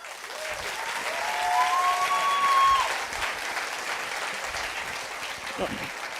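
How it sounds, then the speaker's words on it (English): A conference audience applauds steadily for several seconds, the clapping swelling in the middle, while a faint tone and some speech rise beneath it. "Round of applause once again, please."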